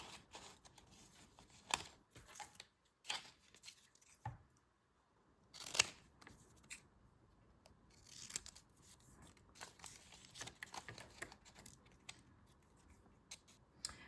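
Scissors snipping through paper pages of a tiny book made for earrings, a series of brief, soft crisp cuts and rustles spaced irregularly, close and fairly quiet with pauses between.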